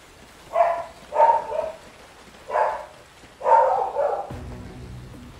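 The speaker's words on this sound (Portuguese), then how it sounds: "Ela fica latindo, mano." A dog in a Call of Duty Ghosts Amazon jungle mission barks about five times at a moderate distance, in short irregular bursts over low ambient background noise.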